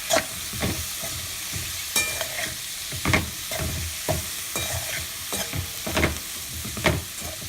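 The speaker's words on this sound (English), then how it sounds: "Mix it nicely." Cauliflower and peas with coriander stirred in a frying pan: a steady low sizzle broken by a dozen or so distinct scraping stirs in an uneven rhythm, close and fairly loud, with no voices.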